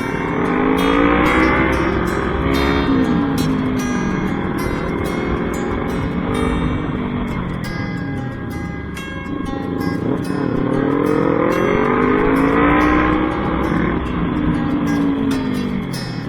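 A loud motorcycle engine runs steadily nearby, its pitch rising and falling as it revs, with sharp crackling bursts throughout.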